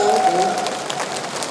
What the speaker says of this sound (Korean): 꽃다발 증정 시간입니다. 박수 좀 많이 보내주세요.